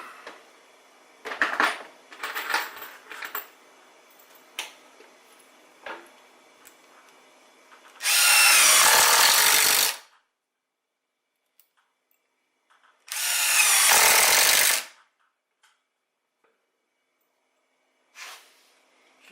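A power drill drives screws into the end of wood framing in a workshop: two loud whirring bursts of about two seconds each, separated by quiet, after some lighter knocks and handling noises.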